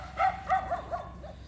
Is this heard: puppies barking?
yes